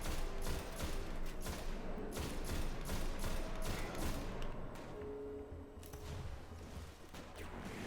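Continuous gunfire during a Warlock playthrough of Destiny: rapid overlapping shots form a dense, steady barrage with occasional thuds, moderately loud and without voices.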